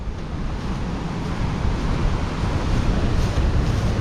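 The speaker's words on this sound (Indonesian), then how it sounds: "Ini angin cukup kencang ya, berhembus cukup kencang." Strong wind buffeting the microphone with a constant roar at Seruni Beach, Donorojo, Pacitan, surf rumbling beneath it, loud and unbroken throughout.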